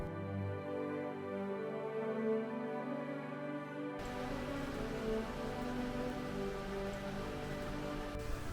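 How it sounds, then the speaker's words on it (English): Steady rain falling in the town of Wells, a dense even hiss of drops on surfaces, loud and close throughout, with a brief tonal hum in the first few seconds before the downpour fully takes over. "I know it's raining"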